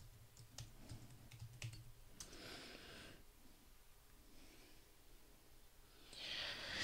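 Keys tapping on a computer keyboard as a command is entered at a command prompt, a few quiet clicks early on, faint and close, with soft breathing and background noise later.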